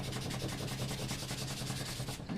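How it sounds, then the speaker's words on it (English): Steady, loud abrasive rubbing as a finish is sanded to remove a small spot of white paint, a continuous scratchy stroke-by-stroke rhythm that stops abruptly at the end. "there's a little white paint, so we're just going to sand that white paint out of there."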